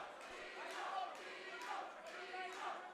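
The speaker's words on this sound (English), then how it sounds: "Listen to the crowd." Crowd noise from spectators at an MMA fight in a Dublin warehouse, a dense steady roar of cheering and shouting that swells slightly in waves, with voices mixed through it.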